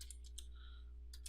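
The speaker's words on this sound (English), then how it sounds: "in here we'll just simply start typing" Soft, quick key clicks from a computer keyboard come in a few short bursts with a brief pause, faint and close over a low steady hum, with no voices.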